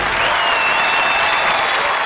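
Hearty audience applause at a Hindi comedy show taping, a dense, steady wash of clapping from a large crowd that stays loud and even for about two seconds.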